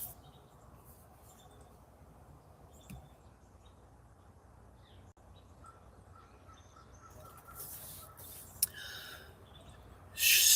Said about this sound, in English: So the crows are starting to crank up.